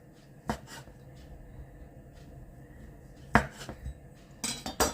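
Knife slicing a dense meat roll baked in a roasting sleeve in the oven, with a few separate cuts and taps against the board, close and moderately loud, with no talking.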